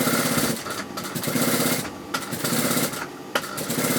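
A sewing machine stitches bias-cut piping around a neckline, its fast motor whirring loud and close in short runs broken by brief pauses.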